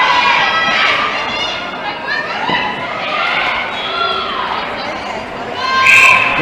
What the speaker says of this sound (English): now the crowd really come into it